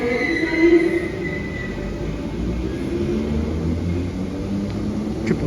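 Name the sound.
Merseyrail Class 777 electric train arriving at platform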